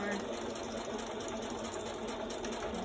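A sewing machine back-stitches through a junk journal pocket, running steadily and close for the whole stretch, with a voice talking over the motor.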